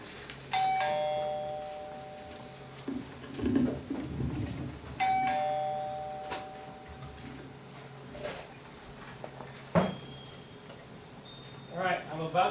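Several doorbells ring in a doorway, each a bright electronic ding or chime followed by a quick tick, recurring irregularly and close by, with soft movement noise between rings.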